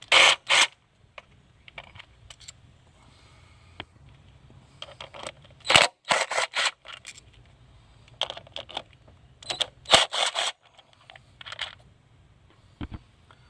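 A 10 mm socket wrench works loose coil pack bolts on a Hyundai Sonata Hybrid engine, giving short bursts of ratcheting clicks separated by quiet gaps.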